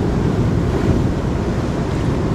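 Strong sea waves and surf pound near a fishing boat in a loud, continuous wash of roaring water mixed with wind buffeting the microphone, with no talking.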